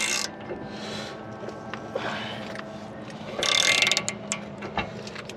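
A lug nut is tightened onto a new wheel stud on a Lexus IS 250, giving close, faint mechanical clicks and ratcheting bursts, with a louder grinding rasp partway through.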